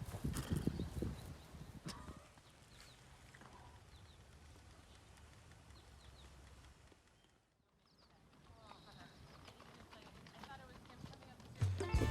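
Steady clip-clop of horse hooves over a noisy outdoor background, with a brief lull midway and a louder thump at the end.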